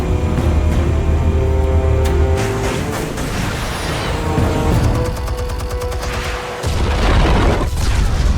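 Explosives detonating in Batman: The Telltale Series, heard as a dense, loud wash of booming blasts and crackling debris that rolls on throughout, with a short lull before a heavy final surge.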